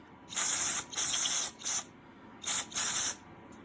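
Five short bursts of aerosol spray hissing from a can, close and distinct, separated by brief pauses, cleaning out residue and filings after sanding.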